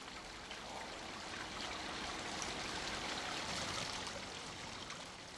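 A small waterfall pours between rock outcrops below a crater lake on a rocky mountain peak, giving a steady, unbroken rush of falling water that stays even in loudness throughout, with no voices.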